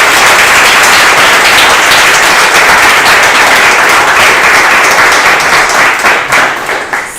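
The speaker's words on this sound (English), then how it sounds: "I just want everyone to give another huge round of applause for CC13" A live audience at a demo day applauds the CC13 graduates with loud, dense, sustained clapping that holds steady for several seconds, then begins to thin and fade toward the end.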